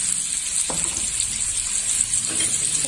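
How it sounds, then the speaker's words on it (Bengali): Long-cut potato strips frying in oil in a home kitchen pan, giving a steady, even hiss throughout with a couple of faint knocks, no talk. "আলুটা ভাজা হোক,"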